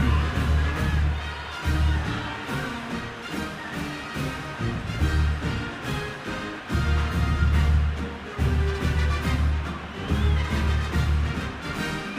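A loud stadium crowd in the College Football 26 video game roars steadily with a swelling murmur and cheering through a pro football game, broken by a couple of brief dips.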